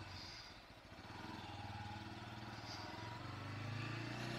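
Bajaj Pulsar N160 motorcycle engine running steadily at idle, a faint, even mechanical hum from a short distance with a slight rise toward the end.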